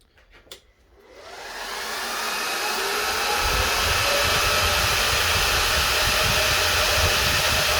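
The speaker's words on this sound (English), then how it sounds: "As you can tell, fans are very loud, on full speed, lots of airflow." Server-case fans in a mining rig with twelve RTX 3090 graphics cards spin up from a click and climb into a loud, steady full-speed whoosh of rushing air that holds to the end.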